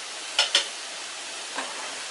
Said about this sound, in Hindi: तो हम ये प्याज और टमाटर भून रहे हैं